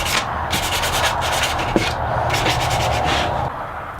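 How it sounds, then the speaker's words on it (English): Hand sanding knocks down the corners of a wooden piece, short rhythmic rasping strokes in quick repeated bursts, close and steady with a brief knock midway. "A quick final sanding to knock the corners down"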